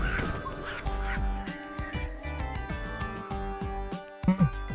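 Crows caw in a jungle scene, harsh calls layered over a busy musical background with a steady beat, fairly loud and continuous throughout.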